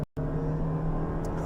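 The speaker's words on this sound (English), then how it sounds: "let's go ahead and test out what we can get 0 to 60 wise in this car" A new all-wheel-drive Toyota Prius pulls away hard from a brake-torqued launch in a 0 to 60 run, its drivetrain giving a brief steady, droning hum after a short gap of silence.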